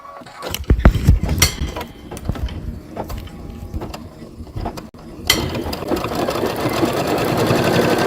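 A sewing machine stitches a quilting sew-along project, close and clear, with a rapid mechanical whir and clatter that starts and stops in short bursts, then settles into a steady continuous run.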